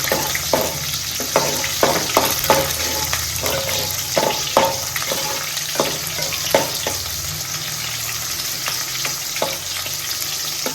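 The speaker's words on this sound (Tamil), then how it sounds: "போட்டு கருவேப்பிலை போட்டு நல்லா வதக்கணும். கொஞ்சம் வெங்காயம் வதக்கணும்." Onions and curry leaves sauté in a pan for a fish curry, giving a steady, close sizzle broken by regular scraping and clacking stirring strokes throughout.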